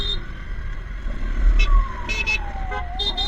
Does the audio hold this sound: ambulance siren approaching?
yes